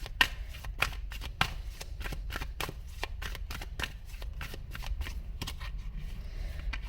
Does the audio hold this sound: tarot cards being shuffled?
yes